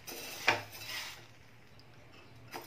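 A spatula stirs chana dal roasting in a pan over a slow flame, giving a couple of brief scrapes against the metal, one sharper near the start and one near the end, with quiet sizzling between and no talking.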